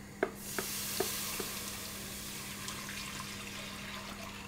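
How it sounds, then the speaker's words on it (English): Warmed milk poured into a cooked butter-and-flour roux for macaroni cheese, giving a steady soft hiss and pouring wash with a few light clinks near the start, no talking. "then we will pour in our warmed milk into the mixture, and this will thicken"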